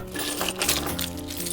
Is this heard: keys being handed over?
yes